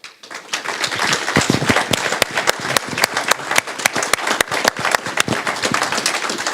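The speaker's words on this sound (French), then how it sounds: "Are you ready to clap for Jesus now?" A church congregation claps for Jesus during a sermon, with dense, energetic applause rising quickly and holding steady, sharp individual claps standing out from the crowd.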